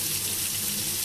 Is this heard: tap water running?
yes